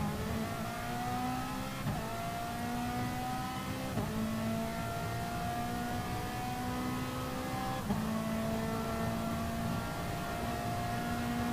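A Ferrari race car engine revs high on track, with rising tones repeatedly cut by quick gear shifts roughly every two seconds, steady and fairly distant, with no voices.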